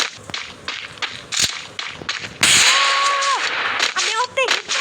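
Sharp gunfire in a shooting video game, with several cracking shots early on and a louder blast followed by a rising electronic whine and bright game tones toward the end.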